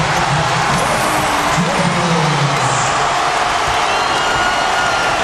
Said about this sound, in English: Boy, how about this crowd?